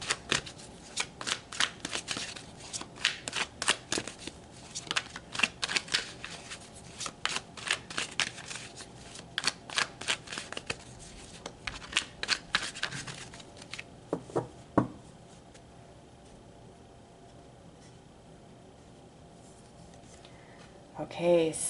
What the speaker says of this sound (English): So let's pull some tarot.